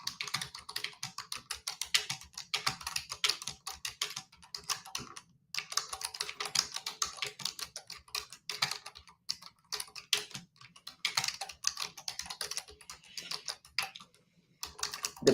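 Fingers type on a computer keyboard in quick, irregular bursts of close clicks, broken by brief pauses, with no talking.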